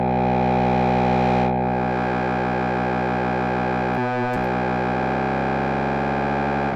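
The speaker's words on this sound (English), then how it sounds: "very nice FM sounds" A Majella Implexus synthesizer plays dense, buzzing FM tones as a sustained harmonic drone, with a brief stuttering glitch partway through before the timbre shifts into a lower, modulated texture.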